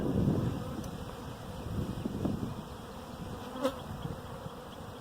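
Honey bees buzz softly and continuously in a dense hum at an open hive, with light wind noise and a few faint knocks nearby.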